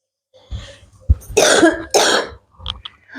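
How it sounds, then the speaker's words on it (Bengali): A person with a bad cold coughs several times in a kitchen: a few short harsh coughs, then two longer rough, chesty coughing bursts, close and loud with no talking. "ভীষণ কাশি হয়েছে আমার তো, খুব ঠান্ডা লেগে গেছে"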